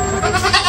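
A goat held by people indoors lets out a short, loud, close bleat, a wavering nasal cry lasting under a second.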